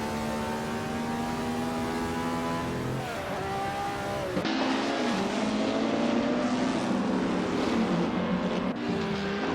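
Vintage 1950s Formula 1 race cars in an AI racing video game at Bridgehampton roar steadily with rising and falling engine pitch, gear changes and a louder surge midway as cars close in, no talking.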